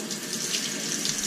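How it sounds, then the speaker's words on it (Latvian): Warm tap water runs steadily from a faucet to rinse a phalaenopsis orchid, a continuous close hiss of flowing water with no talk. "Skalojiet ar siltu ūdeni, istabas temperatūras, ne pārāk karstu, ne pārāk augstu"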